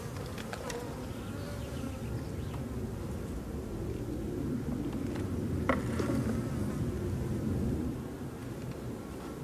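Honeybees hum steadily in a dense, continuous drone around an open hive during an inspection, a close and even buzz with no voices, swelling slightly midway.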